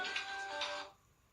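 A telephone rings once, a short electronic tone lasting under a second, then fades to near silence, faint and without voices.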